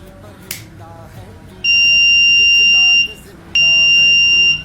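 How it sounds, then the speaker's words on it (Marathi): Buzzer on homemade anti-sleep goggles fitted with an IR eye sensor: two loud, steady electronic tones, each lasting about a second and a half, with a short gap between them over faint background noise and a small click before the first. "डोळे बंद झाल्यावरतीच हा बझर वाजतो"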